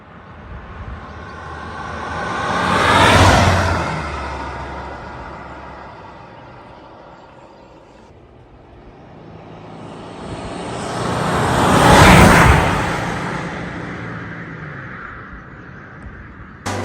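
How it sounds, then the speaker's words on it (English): A car nicknamed Mick, the owner's vehicle after a bubbling-coolant problem, passes by twice on the road, each pass swelling from a distant hum to a loud whoosh and then fading away, with no talking. "We'll have a little outro of Mick zooming down the road, and we're going to take him for a spin."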